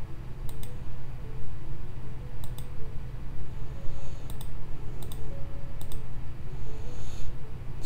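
Keyboard keys and a computer mouse clicking in short sharp bursts at a desk, scattered across the stretch with irregular gaps over a steady low background hum.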